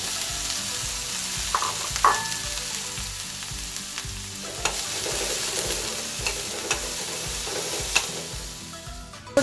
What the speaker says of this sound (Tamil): அதில் நான் புடலங்காய் விதை, கறிவேப்பிலை, பச்சை மிளகாய், பூண்டையும் நான் அதில் சேர்த்துக்கொள்கிறேன்.